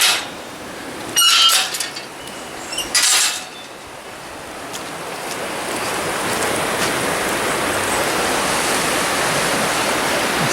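A river rushes beneath an old railway bridge with a steady, broad roar of flowing water, joined by a few sharp clattering bursts in the opening seconds.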